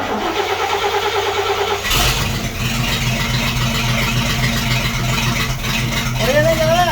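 A 1941 GMC truck engine cranks over after sitting for twenty years, starter whirring in a steady rhythmic churn that begins about two seconds in and continues loud and close to the end.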